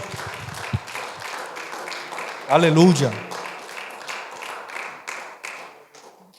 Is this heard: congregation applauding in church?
yes